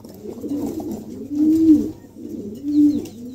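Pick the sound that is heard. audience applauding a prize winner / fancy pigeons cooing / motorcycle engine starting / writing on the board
fancy pigeons cooing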